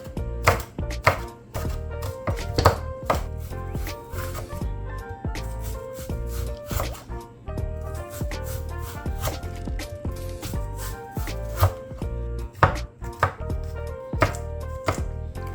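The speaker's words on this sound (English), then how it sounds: "With the scallion or green onion, we're gonna chop up all our" Knife chopping scallions on a cutting board, a steady run of sharp, close, loud chops with brief pauses between bursts, no talking.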